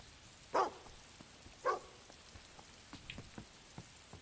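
Dog barking in Fable II, two sharp barks about a second apart heard over soft rainfall patter, followed by fainter scattered sounds.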